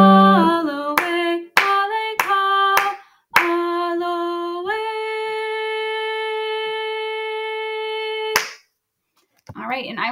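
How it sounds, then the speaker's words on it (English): Sharp hand claps land in a steady pattern between sustained, ringing tonal notes in a baritone chorus practice for the tongo part, ending with a brief pause and a short voiced sound. "Two tongos, one clapping in the middle."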